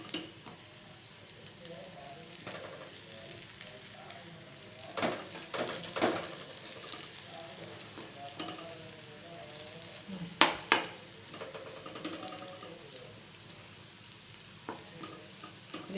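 Food fries in oil in a pan with a steady low sizzle, broken by several louder scraping and clanking stirs of a spoon against the vessel, the sharpest ones near the end.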